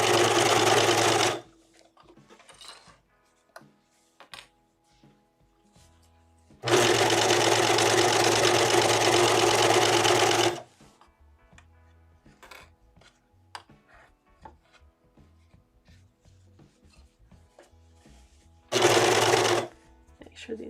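Sewing machine stitching a hooded shirt seam, run slowly through a thick seam point in three bursts of steady whirring, with quiet handling and talk in the gaps between.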